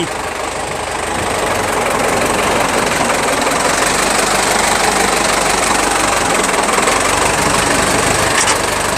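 A loud, steady diesel tractor engine idling with a rough knocking rumble, close to the microphone and continuous throughout.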